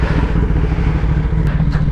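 A Nardo Grey Suzuki Hayabusa motorcycle with a race-fit exhaust idles loud and close, its engine a steady deep rumble with no voices.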